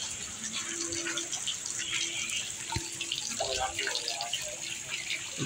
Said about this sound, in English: The water fountain.